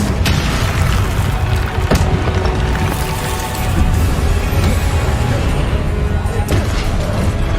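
Confringo blasting spell explosions in Hogwarts Legacy burst amid dense, loud battle noise, with several sharp impacts and booming blasts layered over a continuous roar.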